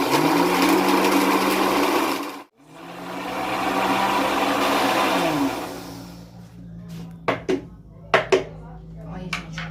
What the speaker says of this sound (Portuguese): Eu nem acredito que eu consegui bater isso aqui no liquidificador